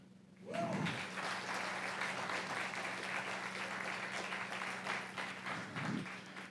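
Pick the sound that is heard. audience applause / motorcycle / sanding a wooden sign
audience applause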